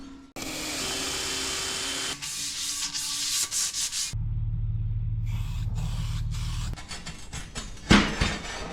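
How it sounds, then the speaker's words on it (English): A wire brush scrubs grease off a metal part from a Ford Territory Barra turbo conversion, making steady harsh rasping strokes up close, with brief pauses and a louder scrape near the end. "Get a wire brush and clean all the grease and crap off."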